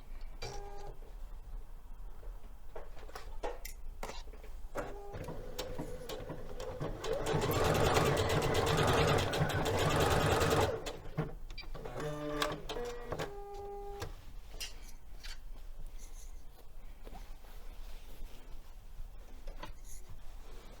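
A sewing machine runs a temporary basting stitch along a garment pocket, with no backstitching, in bursts of rapid mechanical stitching, one longer steady run in the middle, and pauses between.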